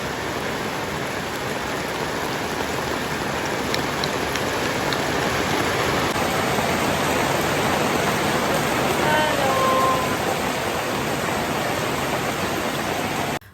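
Continuous heavy rainfall at a house, a thick, unbroken wash of drops hitting surfaces, close and constant from start to finish with no voices.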